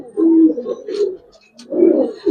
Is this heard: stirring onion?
no